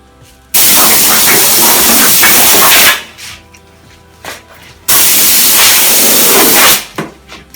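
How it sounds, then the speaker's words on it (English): Compressed air from a hose blasts debris out of a Fisher & Paykel condenser dryer in two loud, sustained bursts of roaring hiss, each lasting about two seconds, separated by a short pause with faint clatter. "So now we're going to clean it out with the air hose."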